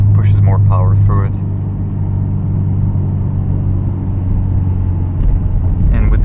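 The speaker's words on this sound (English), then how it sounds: "to hear this coasting sound. You can hear the drivetrain, the noise of it." A manual Subaru WRX with an axle-back exhaust and tune coasts on a night drive, its drivetrain making a steady, loud low rumble. A person talks over the noise at the start and end.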